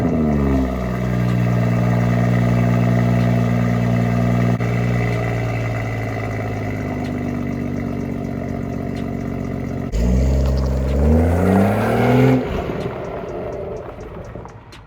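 A tuned BMW B58 engine making about 500 horsepower runs steadily near the microphone, then revs up and down a few times toward the end before settling.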